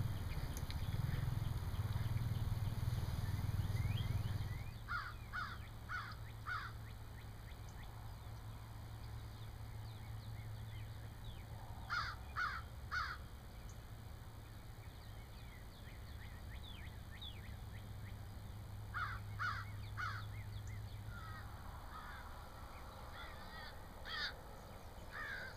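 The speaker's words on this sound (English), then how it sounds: "those crows dive bombing the turkeys" Crows cawing in short repeated bursts over a snowy turkey-hunting landscape, harsh calls clustered in groups of three or four, moderately distant, against steady low wind rumble.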